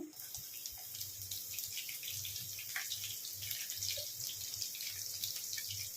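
Chopped onions dropped into hot oil with browned urad dal and chana dal for upma, giving a steady close sizzle and crackle with no talking.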